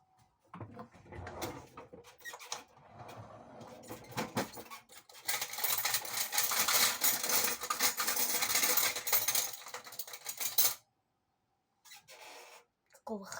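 A metal spoon clinking and scraping against dishes while eating pho, a run of close clatters and scrapes in the middle, with quiet stretches before and after.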